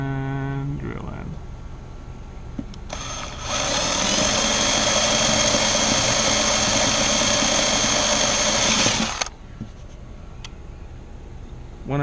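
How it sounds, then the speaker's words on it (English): A power drill drives a screw into a weatherproof sprinkler control box, a loud continuous whir lasting several seconds close by, then stopping abruptly. "And drill in."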